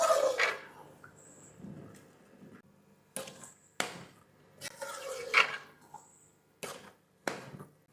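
Carrot halwa with ghee and cardamom is stirred in a pan, a series of separate scraping and clinking strokes of a utensil against the metal, close and irregular with short pauses between them.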